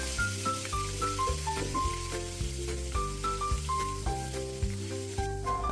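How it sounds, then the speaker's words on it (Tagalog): Sliced pork chop sizzles and crackles in hot oil in a pan, a steady frying hiss with faint tonal sounds running through it and no voices. "Mag-start na tayo mag-gisa ng ating hiniwang pork chop."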